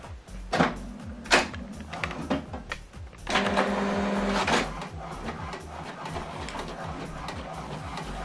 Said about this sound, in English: the first set of documents is printing